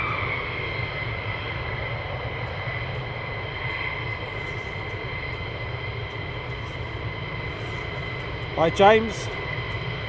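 F-15 fighter jets at RAF Lakenheath give off a steady, distant engine roar that holds level under the scene, with a man's brief greeting near the end.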